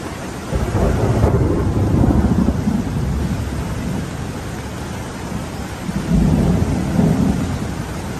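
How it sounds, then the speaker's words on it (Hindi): Heavy rain pours steadily beside a river while thunder rumbles in two long, loud swells, one at the start and one near the end, with no one speaking. "बारिश थोड़ी तेज़ हो चुकी है"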